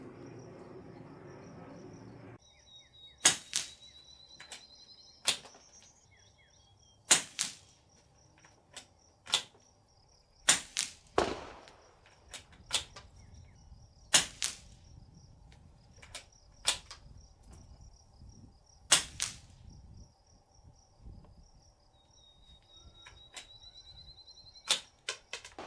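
Suppressed shots from a CZ455 rifle fitted with a GemTech suppressor firing Winchester white box 40 grain truncated cone rounds, a dozen or so sharp cracks spaced a few seconds apart over quiet outdoor background.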